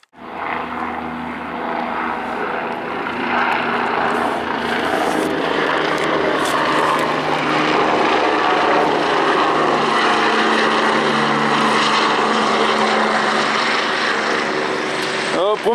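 A steady, loud rescue helicopter rotor-and-engine drone fills the whole stretch at Mont Aiguille, unbroken and close, with a rough, whooshing wind-like texture.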